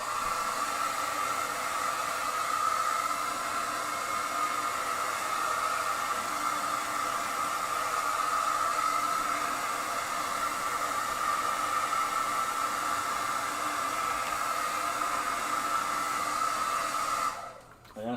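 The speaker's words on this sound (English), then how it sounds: "I'm just gonna go off to the side and blow dry this." An old handheld blow dryer runs continuously on a mixed media collage page, a loud, steady close airflow roar with no talk, cutting off abruptly at the end.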